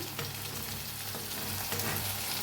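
Onion and tomatoes sizzle and crackle hard in a hot pan while being stirred for a horse gram dal, a dense, continuous frying hiss with occasional scraping stir strokes and no talking.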